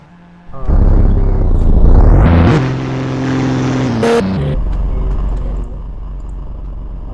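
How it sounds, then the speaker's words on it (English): A Toyota Rocket Bunny widebody Supra's engine in Roblox Redline Drifting starts up loud and close, revving hard and climbing, then settling into a sustained drone with another brief rev before easing to a lower idle. "the car I'm going to be using is the Toyota, the Rocket Bunny Supra, or the wide body as it is in the game"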